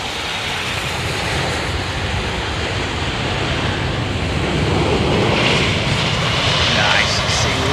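Airliner landing on a wet runway at London Heathrow with thrust reversers deployed, a broad, loud roar with spray-like rushing that swells toward the end.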